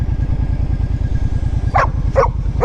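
A dog barks three times nearby, quick and loud, during an outdoor drive. The barks sit over a steady, pulsing engine rumble.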